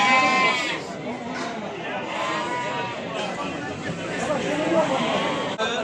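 Lambs bleat over and over at a sheep market in Beylagan, near and overlapping, amid a crowded murmur of people talking throughout.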